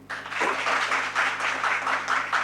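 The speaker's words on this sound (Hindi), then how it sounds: "इसके लिए ताली बजाइए" Workshop audience clapping for a student's answer, a steady, moderately loud round of applause with pulsing waves of claps and a faint hum underneath.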